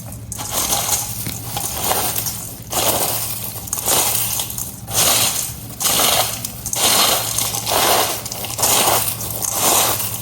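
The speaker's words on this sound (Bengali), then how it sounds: "আমি এখন একটু ভাঙিয়ে নিব একটু।" Fried flattened rice (chira) is crushed and broken up for homemade chanachur, giving loud, close crunching and crackling in repeated rhythmic bursts roughly once a second.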